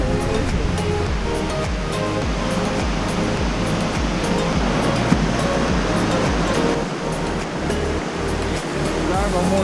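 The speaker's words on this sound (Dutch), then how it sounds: "We zijn bovenaan op de waterval." A waterfall roars as a loud, continuous rush of water heard from the top of the falls, with voices talking over it.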